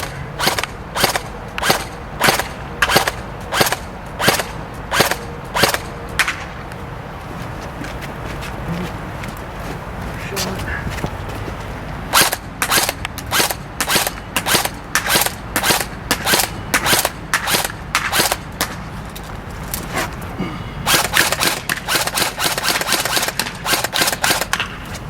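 Airsoft guns fire on an outdoor shooting course in rapid bursts of sharp, evenly spaced cracks, with pauses of quieter rustling and movement between strings of shots.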